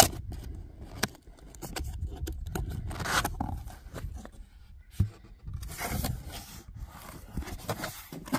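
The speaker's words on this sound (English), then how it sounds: "So we're going to unbox it and see what it's got." A Milwaukee high-powered leaf blower comes out of its box amid close cardboard and plastic rustling, scraping and sliding, with irregular bursts and a couple of sharp knocks.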